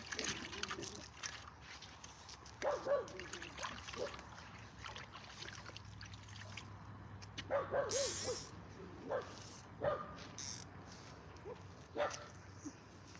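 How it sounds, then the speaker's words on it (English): A dog barks in short bursts a few times at moderate distance, with quiet outdoor background noise between the barks. "Oh, he's barking again."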